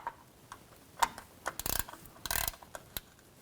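Quiet metallic clicking and ratcheting as a ratchet snugs down a fill plug on a 2006-2010 Hummer H3, several quick bursts of clicks with short pauses between, close by with no talking.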